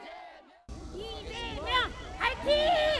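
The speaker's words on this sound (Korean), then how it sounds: "지지자 200여 명은 내내 환호하고 박수를 쳤습니다" Around two hundred supporters gathered outside a prosecutors' office shout and cheer together for Lee Jae-myung. The voices swell in loud, rhythmic chanting bursts after a brief quieter murmur.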